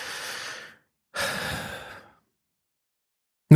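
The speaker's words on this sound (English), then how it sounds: "take a nice big deep breath" Two long, slow breaths: an inhale followed by a deep, audible exhale, close and clear, then silence and a sudden short sound at the very end.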